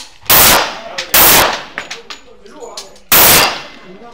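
A Colt .45 pistol fires three loud, close shots, two in quick succession and a third after a pause, each a sharp broadband blast with brief echo. Faint clinks and handling noises fall between the shots.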